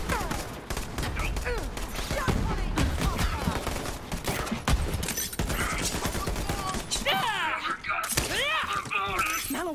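Gunfire in the video game Borderlands 3, dense rapid bursts of shots and shattering impacts with constant game effects, layered under frequent voice chatter.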